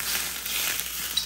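Hot oil crackles and sizzles steadily on food, a dense close hiss with small pops and no talking.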